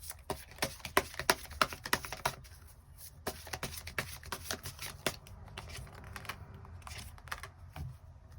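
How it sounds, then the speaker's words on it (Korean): Tarot cards being shuffled and handled in a quiet room, with a run of crisp riffling snaps and flutters followed by softer, scattered card taps and slides, close and fairly quiet with no talking. "그럼 추가 카드로 2023년을 잘 살아가기 위한 조언의 카드 조금 더 뽑아보도록 하겠습니다"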